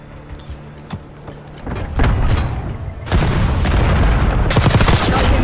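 Gunfire in Black Ops 6 starts as scattered shots, then builds into loud, dense bursts of rapid fire close by, with no talk over it.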